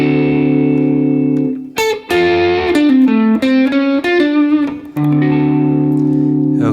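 Electric blues guitar lick played through a Positive Grid Spark amp on the Country Road preset, recorded direct into an audio interface: sustained distorted notes, a quick run of picked phrases in the middle, then a long held chord ringing out, close and loud.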